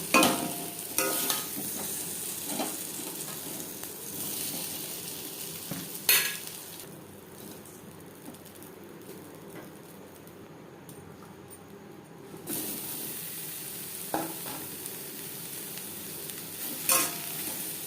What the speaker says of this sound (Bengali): লবণ হলুদ দিয়ে সয়াবিন ভেজে নেব।